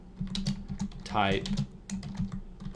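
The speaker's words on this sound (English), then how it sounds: "I'm going to type in TrueType" Keys clatter on a computer keyboard in quick, uneven taps close by, with a brief rising electronic tone partway through and no speech.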